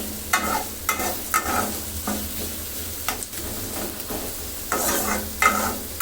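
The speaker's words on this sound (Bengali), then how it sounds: "পেঁয়াজটা একটু হালকা ভেজে নিতে হবে মানে সতে করে নিতে হবে" Onions sautéing lightly over medium heat in a pan for a dried-fish dish, a steady close sizzle broken by repeated scraping stirs of a spatula, no talking.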